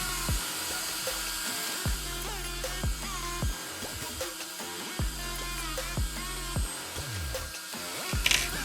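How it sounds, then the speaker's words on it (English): A screwdriver fastens a screw on the active rear wing of an Arrma Typhon 6s RC car, making a repeated whirring that rises in short bursts about once a second at close range. "Now we can fasten the screw."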